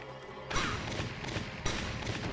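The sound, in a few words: headshot gunfire in Valkyria Chronicles video game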